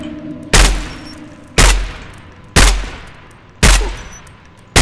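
Four loud, sharp gunshots fire at evenly spaced intervals, about one per second, each decaying quickly, in a Roblox zombie-shooting game.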